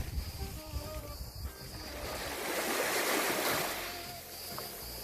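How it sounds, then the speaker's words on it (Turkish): Sea waves washing against the shore near Bodrum on Turkey's Aegean coast, a continuous rushing surf that swells and recedes, heard alone with light wind. "Tekrar dalga sesleriyle baş başa bırakıyorum size."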